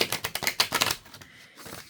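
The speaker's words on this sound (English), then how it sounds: "let's just give this a shuffle and see what pops out" Tarot cards being shuffled by hand, a quick run of crisp riffling flicks for about a second, close and fairly soft, then trailing into faint rustling.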